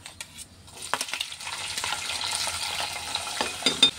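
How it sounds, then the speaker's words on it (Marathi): Chopped onion frying in oil with cumin and mustard seeds for a potato bhaji starts quietly, then swells into a steady close sizzle with scattered pops and small metallic clinks. "आपल्याला कांदा चांगला परतून घ्यायचा आहे"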